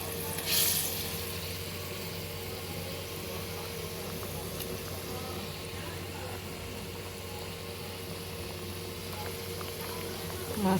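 Fish goes into a pan of spice masala loosened with a splash of water, giving a steady, moderately loud sizzle and bubbling that holds evenly throughout with a brief burst near the start.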